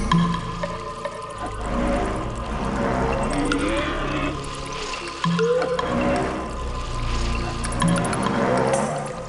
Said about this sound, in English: I think the water I diverted from the waterfall is flowing right to that grate.